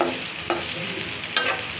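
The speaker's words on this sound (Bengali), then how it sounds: "এখন হচ্ছে পেঁয়াজগুলো ভাজা হয়ে গেছে" Onions frying in a pan, a loud close sizzle with two bursts of stirring scrapes and no talk.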